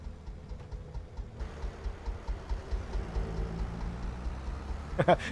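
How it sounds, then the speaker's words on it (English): A single-cylinder tractor engine chugs with a slow, regular thumping beat, moderately distant, with a brief clatter near the end. "Have you heard that old engine? Tick, tick, tick, tick. That's one piston tractor."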